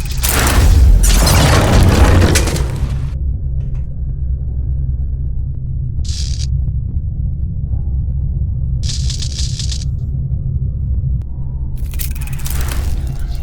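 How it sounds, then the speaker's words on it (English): Heavy explosions in the steampunk adventure game Verne: The Shape of Fantasy, a loud booming rumble at the start that fades into a low sustained drone, with a few brief hissing bursts later. "The explosions didn't affect the room."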